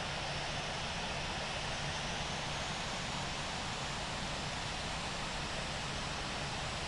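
An airliner taking off from runway 25 right at LAX in the Infinite Flight simulator game: a steady, broad engine roar holds evenly throughout, with no talk.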